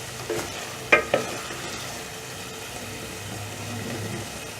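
Potatoes and peas for aloo matar frying in spices with crushed chilli in a pan, a steady low sizzle with a couple of sharp spoon clanks near the start.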